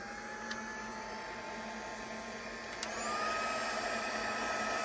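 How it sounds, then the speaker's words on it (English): A heat gun warming a wax-coated paper image, a steady close whirring blower hum with a high whine, briefly clicking and rising slightly louder partway through, no talking. "put your heat gun on."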